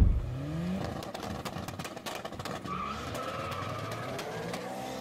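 BMW E60 M5 accelerating hard with tires squealing in a skid, engine roaring loud and close as the car drives off, the screech and revving continuing throughout.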